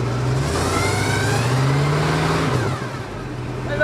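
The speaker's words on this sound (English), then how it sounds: "Give it a rev." A flood-damaged 1978 truck engine runs with a steady mid-pitched drone, rising in pitch as it revs and then settling back, loud and close with no talk.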